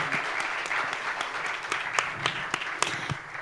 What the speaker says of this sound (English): can I please request you all to give this living legend right here on the stage a much bigger round of applause, ladies and gentlemen